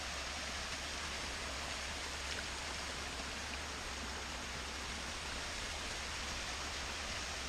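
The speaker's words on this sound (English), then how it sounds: "Mini waterfall, it's really pretty." Small waterfall beside a hiking trail on the Appalachian Trail, a steady, even rush of falling water that holds constant throughout, fairly close and with no voices over it.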